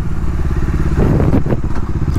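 A Bajaj Dominar 400 motorcycle engine rumbles loud and close, with a steady pulsing low exhaust throb and a brief burst of rattling clatter partway through.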